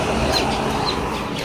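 Tiger breed chicks crowd a hatchery with incubators, a dense layer of high peeping chirps over a steady machine hum, close and continuous.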